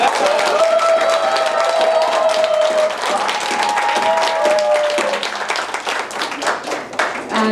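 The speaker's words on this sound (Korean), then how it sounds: "박수 한 번만 다시" Loud, close applause from an audience at a lecture event, dense clapping that carries on steadily and thins slightly toward the end, with faint ringing tones and some voices mixed in.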